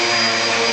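A Hoover vacuum cleaner runs loud and close, a steady high-pitched roaring whine with no break.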